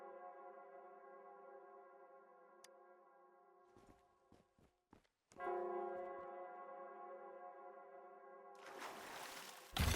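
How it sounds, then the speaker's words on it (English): A bell tolls in the video game Wuthering Waves: sustained, resonant ringing with long overtones, broken briefly by a few sharp knocks midway, then swelling again and ending in a loud noisy burst. "The bell sounds closer now."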